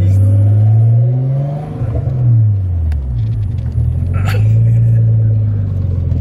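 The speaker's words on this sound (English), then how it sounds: "Alright, we're pulling up now." A car, apparently a Nissan R32, rumbles loudly up close as it pulls in, its engine rising and falling through revs with faint sounds over the low drone.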